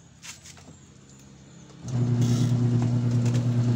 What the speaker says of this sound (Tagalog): So pipihitin ko naman yung wash motor nya.